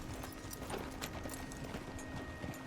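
Horse hooves clip-clopping in Red Dead Redemption 2, a quiet, steady rhythm of hoofbeats under faint ambient noise.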